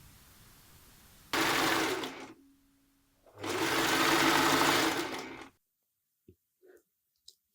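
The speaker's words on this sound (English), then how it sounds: "sewing time. I'm going to start by joining the center back" A sewing machine stitches a center back seam on a cropped blazer in two loud, steady whirring bursts of a second or two each, separated by a short pause, followed by a few faint clicks.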